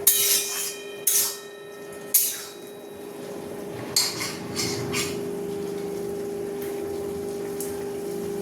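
Bitter gourd is stirred and mashed in a pan, with a few sharp metallic clanks and scrapes of the utensil against the pan over a low steady hum, the knocks spaced about a second apart and then fading to softer scraping.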